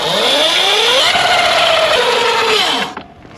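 An Altis Sigma MX electric dirt bike spinning its rear wheel freely on a stand, a loud, close electric whine climbing in pitch, holding high, then winding down before cutting off.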